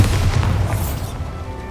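A Bombarda blasting spell goes off in Hogwarts Legacy, a deep booming explosion with a rumbling low-end burst that rolls and fades over a couple of seconds.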